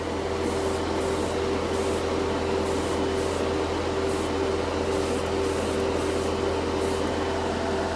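An airbrush laying a wet final coat of Vallejo Shift paint onto a gunpla model kit piece, giving a steady, loud, unbroken hiss of spray that holds for the full length with no talking over it.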